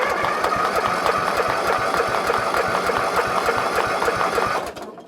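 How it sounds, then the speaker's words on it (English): A car engine in park cranks over steadily without catching, the starter chugging in a fast even rhythm, loud and close, before cutting off near the end; no speech. "we're going to crank it over and see if it'll start"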